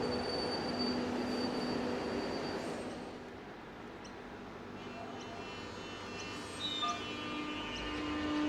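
A suburban train rolls through Riversdale station, its wheels squealing in thin sustained high whines over a steady rumble that eases in the middle and swells again toward the end, heard from the platform.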